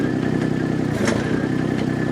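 A hydraulic machine's engine runs steadily at a medium idle with a continuous clattering drone, close and fairly loud, during work clearing a family pool from a yard.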